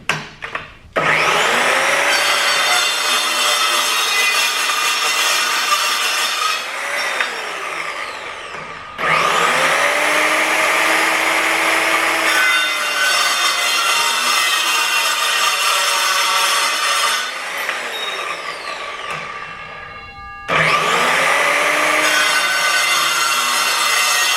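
An Evolution S210 cold saw cuts 1.5 inch square steel tubing with 1/8 inch wall, making a loud, close grinding whine in three long passes, each with ringing metallic overtones as it spins up and winds down.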